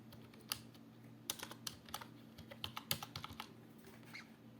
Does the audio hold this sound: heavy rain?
no